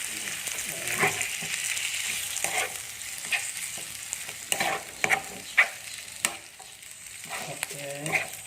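Squid seasoned with a simple spice paste fries in a home kitchen pan, giving a loud continuous sizzle with repeated scrapes and clacks of a stirring utensil.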